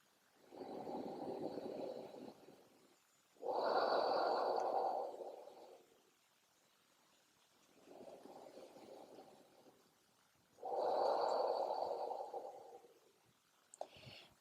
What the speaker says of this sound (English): Long, deep breaths here.